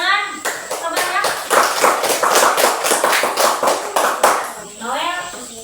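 A group of people clap hands in a rhythmic pattern of sharp, close claps lasting several seconds, with voices speaking at the start and end.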